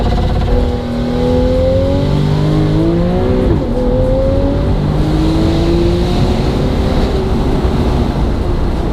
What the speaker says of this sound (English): I'm going to do launch control now as promised.